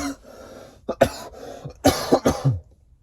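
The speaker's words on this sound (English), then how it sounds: "this cough is just killing me" A series of harsh, close coughs comes in two bursts, the second a rapid cluster of three or four hacking coughs.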